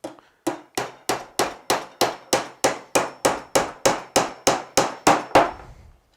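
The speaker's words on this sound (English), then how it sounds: "Hold it in position like that when you're hammering it down." Hammer strikes driving down a wooden part of a budget WBC beehive brood box, about fifteen sharp, evenly spaced blows, close and loud with short ringing decays.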